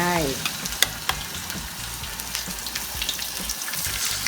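Vegetables stir-fried with plenty of garlic in a small pan, a steady close sizzle of hot oil with scattered sharp clicks of a utensil stirring against the pan, no talking.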